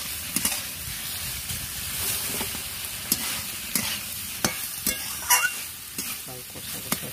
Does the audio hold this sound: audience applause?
no